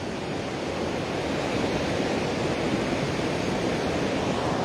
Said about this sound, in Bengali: পালাসন নদীতে প্রবল জলস্রোতের কারণে